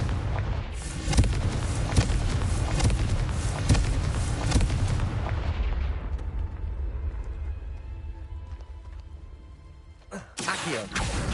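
Confringo blasting spells in Hogwarts Legacy produce a loud, dense barrage of booms and crackling impacts that thins to a low rumble, then one fresh burst near the end.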